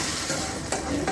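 Spices tempering in hot oil in a pan for a South Indian sambar, a loud continuous sizzle with crackles and a stir, close and on its own.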